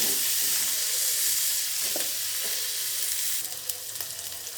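Peas and spices sautéing in a pan for a vegetarian cabbage curry, with a steady close hissing sizzle that eases slightly toward the end, broken by a few faint stirring scrapes, no speech.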